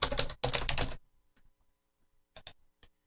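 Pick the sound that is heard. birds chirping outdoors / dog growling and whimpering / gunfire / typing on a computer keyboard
typing on a computer keyboard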